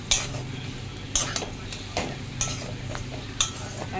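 Snake gourd with grated coconut frying in a pan over low flame: a soft steady sizzle under repeated spatula scrapes and taps, roughly one each second, with no talking.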